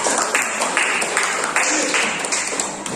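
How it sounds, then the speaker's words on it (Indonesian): Students in a classroom applaud their group work, a steady wash of many hands clapping together at close range, with a voice talking over it. "Jadi sekarang tepuk tangan dulu untuk kerja kelompok kita"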